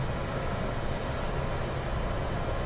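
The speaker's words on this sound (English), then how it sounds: "There's another train coming." An F40PHL-2-hauled train passes on the Miami to West Palm Beach line in Train Simulator 2015, a steady broadband rumble with a faint high whine, constant and moderately quiet throughout.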